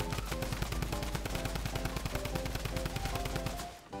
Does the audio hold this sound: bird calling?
no